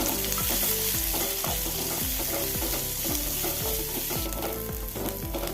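Chopped onions and mustard seeds frying in oil, a steady loud sizzle with rhythmic scraping of a spoon stirring the pan, continuous with no talking.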